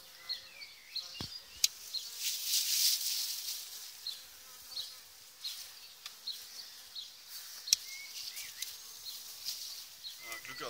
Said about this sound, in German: Glück gehabt, dass der Bienenschwarm da vor dem Fenster kommt.